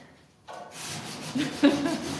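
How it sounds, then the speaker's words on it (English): Hand sanding by hand, a soft rasping rub that starts after a brief quiet and continues in uneven strokes, close by. "I'm just hand sanding edges"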